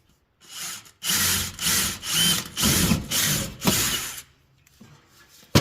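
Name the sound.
power drill drilling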